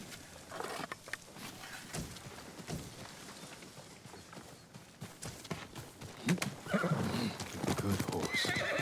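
A horse whinnies loudly amid clip-clopping hooves and scattered game sound effects, with a second, louder neigh near the end, in the video game Ghost of Tsushima.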